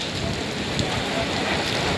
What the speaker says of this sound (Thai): พายุฝนมานะครับ